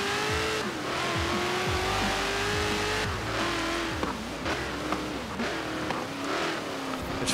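A 2018 Dodge Challenger SRT in Forza Horizon 4 roars loudly and continuously, its engine note rising and falling through revs and gear changes, with possible tire squeal mixed in.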